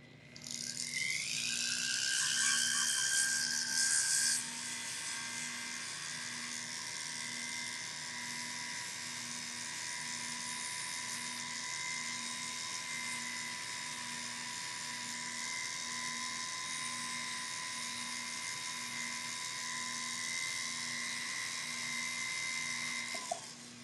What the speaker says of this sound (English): Now, that's the front, so I'm just going to sand the back.